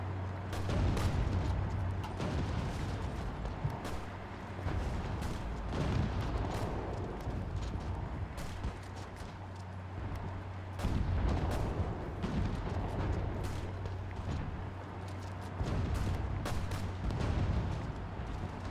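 Bombing in Hearts of Iron 4, a steady stream of distant booms, rumbling blasts and scattered gunfire pops over a low constant hum, with no talk.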